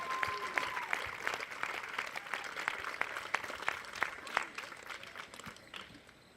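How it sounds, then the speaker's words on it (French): A crowd claps for bronze, silver and gold medal winners at a sports closing ceremony, fairly close, brisk individual claps forming uneven applause that thins out toward the end. "Une bonne main d'applaudissements."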